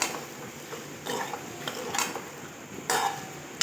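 Boiled potatoes sautéed in a pan on low flame, with a few distinct scraping clinks of a spatula against the pan between quieter stretches of low sizzle.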